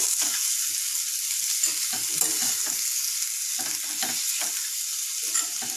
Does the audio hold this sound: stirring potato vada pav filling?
yes